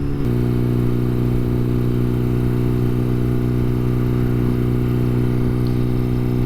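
An older boxer-engine motorcycle rumbles steadily while being ridden, a loud, close, even low drone without breaks.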